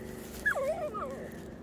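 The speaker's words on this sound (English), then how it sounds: "Well, I love my asshole dog." A dog on a forest and beach walk gives a short high whimpering yip, a rising and falling whine lasting under a second, fairly close but soft, over quiet outdoor background.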